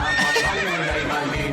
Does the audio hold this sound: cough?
no